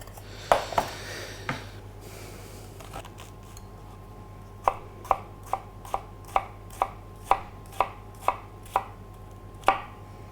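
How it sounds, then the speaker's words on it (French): A shallot diced with a small Damascus paring knife on a board, about a dozen crisp, evenly spaced chops in a steady rhythm after a few scattered cuts, close and clear. "on va ciseler une échalote."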